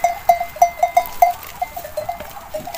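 Aleppo (Halep) goats and sheep, including a red Aleppo goat, bleat repeatedly and close by. The calls come in short overlapping bursts over a steady herd background, with no talking.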